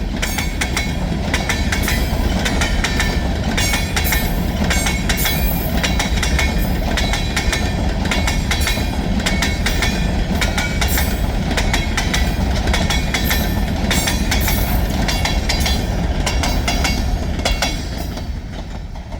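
A passing train rumbles loudly and steadily, wheels clacking rhythmically over a rail joint, with metallic ringing above the constant roar.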